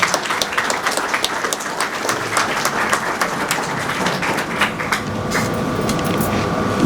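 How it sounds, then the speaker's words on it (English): An audience at a youth business program graduation ceremony claps in sustained applause, a dense patter of hands with a few sharper individual claps, fading slightly as a faint tone enters near the end. "Please give them a round of applause."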